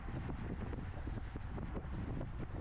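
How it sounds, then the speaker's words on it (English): Strong crosswind buffeting a microphone during a Master 50+ bicycle road race circuit in California, a steady loud rushing roar with gusty low rumble throughout, no talk. "it just still feels like a lot of wind as a crosswind here"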